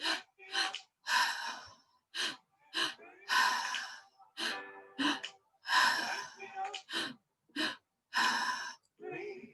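Vigorous active breathwork: a rapid series of forceful, close breaths, sharp inhales and exhales in an irregular rhythm with brief pauses between them, heard alone.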